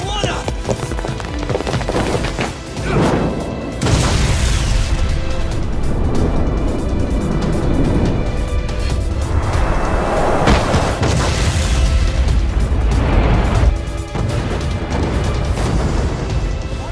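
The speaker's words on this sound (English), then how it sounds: "This ship just exploded!" A ship blows up in the video game Lost Judgment, with deep booming blasts and rumbling debris layered under raised character voices and background game sounds.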